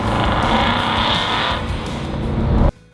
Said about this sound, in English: I love that Christina does take her McLaren out on the track